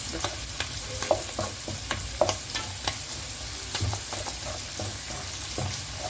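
A mushroom piccata mixture is stirred as it fries in a pan, with a low steady sizzle under irregular spoon clinks and scrapes on the pan, close and fairly soft, without speech.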